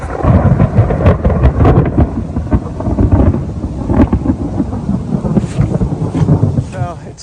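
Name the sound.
rain falling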